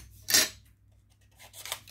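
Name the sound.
scissors cutting paper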